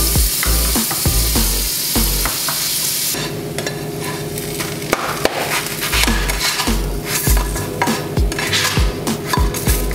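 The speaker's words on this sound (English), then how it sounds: "Cook the sandwich till both sides are a nice light golden brown." A cheese sandwich fries in a pan, with steady sizzling under frequent scraping and clattering from a spatula or utensil against the pan, loud and close throughout.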